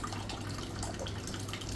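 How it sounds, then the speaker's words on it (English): A household faucet runs steadily, kept going by a heater left on, giving a constant close hiss of water pouring into a sink for the whole short stretch with no voices. "my faucet just runs like that"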